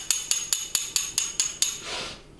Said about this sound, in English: You take that hammer, start tapping it in.